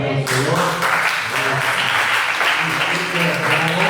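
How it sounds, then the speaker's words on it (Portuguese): Congregation clapping during a Portuguese-language church sermon, loud and dense applause filling the space from start to finish, with voices mixed in. "Você pode aplaudir ao Senhor?"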